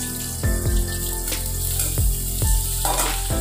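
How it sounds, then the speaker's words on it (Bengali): Onion, garlic and ginger hitting hot oil left from frying chicken for chilli chicken, a steady close sizzle with several sharp clattering spoon or pan knocks spaced through it. "মাংস ভাজা তেলের মধ্যে আমি পেঁয়াজ দিয়ে দিলাম"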